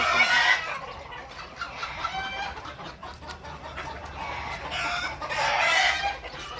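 Sonali chickens in a layer farm clucking and calling close by, a busy flock with overlapping short clucks and a couple of longer drawn-out cries, no talking.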